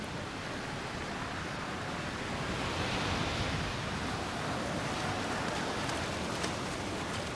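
Steady, broadband roar of surf washing in continuously, loud and close, with no voices.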